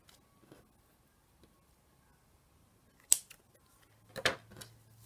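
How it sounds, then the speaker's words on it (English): Scissors snip through lace trim while making Christmas tassels, giving two or three short, crisp cuts separated by quiet pauses, close and fairly faint with no talking. "Trim the lace."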